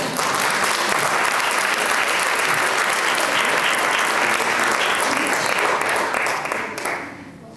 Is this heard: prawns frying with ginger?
no